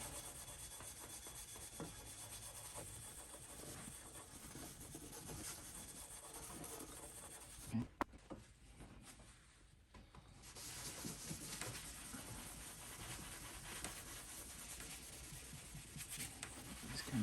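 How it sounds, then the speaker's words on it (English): Cloth rubbing polish into heavily oxidized metal on a 1947 Aireon jukebox, a continuous faint scrubbing hiss with a brief pause and small knock midway, close and quiet, no talk. "Rub it in the polish and then let it dry, and we'll see."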